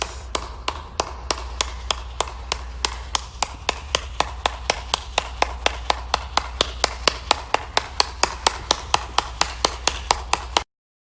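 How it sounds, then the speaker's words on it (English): Steady, evenly spaced claps from a single person, roughly four per second for about ten seconds, sharp and close over a low constant hum, with no talking. "I don't know where he's clapping at"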